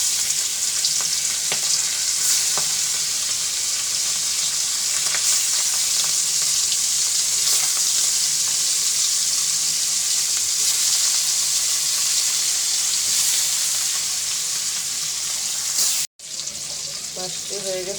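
Marinated jatka fish frying in a pan, a steady loud hiss and sizzle that runs unbroken for a long stretch, cut briefly near the end by a sharp break before the sizzle returns.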